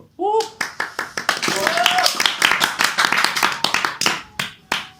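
Scattered hand clapping from a few people in an Indonesian podcast studio, sharp uneven claps mixed with overlapping casual talk and laughter close to the microphone.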